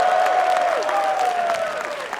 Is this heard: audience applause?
yes